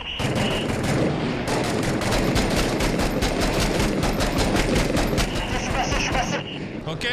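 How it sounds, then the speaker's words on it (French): Sustained suppressive gunfire from 6 Days in Fallujah, a rapid steady stream of close, loud shots with low booms beneath, and voices talking over the din. "Ok, j'arrête le tir de suppression."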